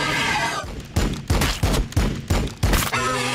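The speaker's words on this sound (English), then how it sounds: "Firing on the enemy!" Gunfire in Warhammer 40K Battlesector against Tyranids, a rapid series of about seven loud, punchy shots at roughly half-second intervals over a dense battlefield background.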